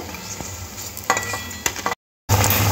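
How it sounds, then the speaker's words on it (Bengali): Veg cutlets fry in hot oil with a steady broadband sizzle, punctuated by a few sharp clinks of a utensil and a brief silent cut before the frying noise resumes at full strength. "বাকি যে কাটলেটগুলো আছে একই প্রসেসিংয়ে ভেজে নিতে হবে।"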